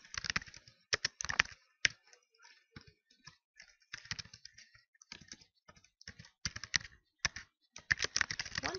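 Quiet bursts of computer keyboard typing, irregular clusters of close clicks separated by short pauses, heard alone without speech.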